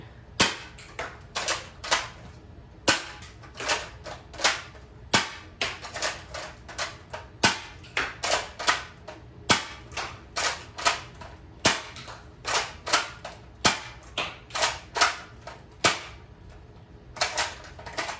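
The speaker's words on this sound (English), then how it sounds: "And now we're going to fire all 7 of these." A Nerf Elite 2.0 Echo CS-10 blaster fires a rapid series of sharp, close snapping shots, each a crisp pop in quick irregular succession, with no talking.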